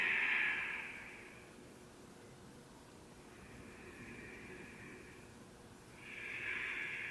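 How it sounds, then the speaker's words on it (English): Slow, deep breaths during a yoga practice, a long airy exhale at the start, a softer breath in the middle and another strong breath near the end, close and unvoiced with no talking. "Breathe deeply."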